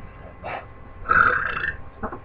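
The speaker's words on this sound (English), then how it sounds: "that's burping into the damn thing" One loud, drawn-out burp right up close into a microphone, with a short gulping tail at the end and no speech.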